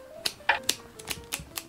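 Sharp pruning shears snip the roots of a shimpaku juniper bonsai freshly harvested from the field, giving about seven crisp, close clicks in a quick irregular rhythm.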